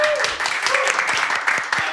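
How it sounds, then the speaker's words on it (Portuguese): Studio audience applause on a Brazilian podcast set as a guest is welcomed, brisk clapping with sharp individual claps throughout, heard close and fairly loud alongside a talking voice. "Palmas, auditório, palmas, auditório."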